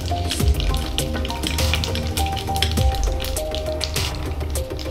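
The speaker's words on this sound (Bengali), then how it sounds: "এখন ছোলার ডাল দিয়ে দিচ্ছি।" Chana dal tipped into hot oil already sizzling with curry leaves and black mustard seeds for lemon rice, giving a steady loud sizzle with crackling pops and occasional stirring clatter, close up and without talk.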